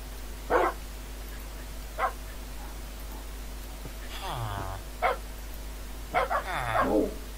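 Several dogs in the Minecraft video game give short yips and whimpers scattered through the stretch, with a steady low hum underneath and no speech.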